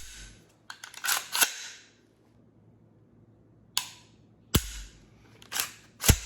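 Sharp dry-fire clicks and resets from a Geissele Super Duty MK16 rifle trigger, several crisp mechanical snaps in small clusters separated by quiet pauses, close and clear.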